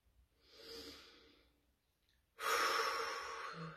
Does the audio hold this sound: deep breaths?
yes